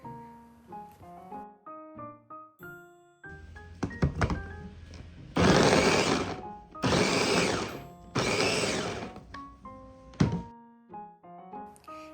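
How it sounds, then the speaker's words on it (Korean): A food processor grinds small cubes of butter for rice-flour scones in three short bursts of about a second each, loud whirring pulses separated by pauses, with lighter clicks and knocks of handling before and after. "푸드 프로세서 성능에 따라 다르지만 저는 3초씩 3번 정도로 갈아주고 있고요"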